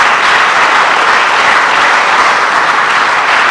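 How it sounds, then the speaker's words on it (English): Loud, dense audience applause at a National Ag Day celebration at the USDA, a continuous roar of many hands with no gaps. "Let's give both of these groups a round of applause."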